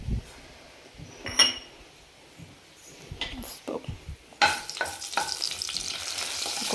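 Cumin seeds dropped into hot oil, a brief bright spitting sizzle that swells after the seeds go in, with clinks of utensils and someone talking over the cooking.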